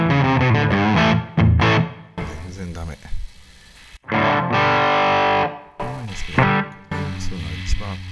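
An electric guitar played through a distortion effect on a Line 6 POD Go, loud sustained chords and phrases broken by short pauses and abrupt stops.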